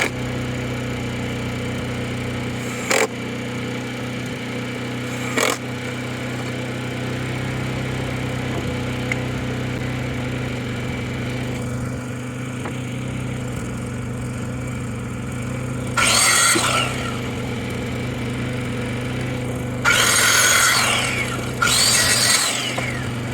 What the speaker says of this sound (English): we're going to suck it up and listen to the generator